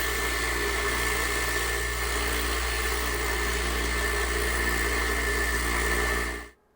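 Rock tumbler running with rocks, borax and ceramic media, giving a steady, loud droning hum with constant low rumble and vibration that carries on unbroken, then cuts off abruptly at the end.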